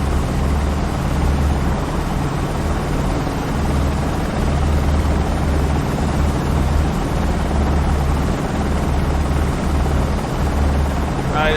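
Schweizer 300CBi helicopter piston engine running steadily as the collective is raised, a loud, constant low rumble and rotor drone through the whole stretch, with no talk over it.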